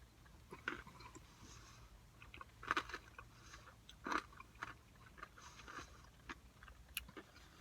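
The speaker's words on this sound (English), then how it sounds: "Gives it a nice crunch." Crunchy chewing of a 2018 Menu 8 beef macaroni military ration (MRE) mixed with toasted barbecue nuts: faint, close bites and crunches with a few sharper crunches standing out, no talking.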